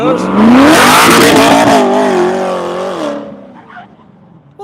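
A race car launches off the line on a wet skid pad, its engine roaring loud and close, the revs climbing hard with tire noise, then settling and fading as the car pulls away.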